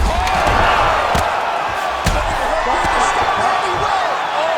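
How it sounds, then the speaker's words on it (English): Arena crowd roaring and cheering throughout the final round of a grappling fight, a dense continuous swell with scattered whoops and thumps, while a commentator talks over it. "Oh, crowd just loving it as the fighters."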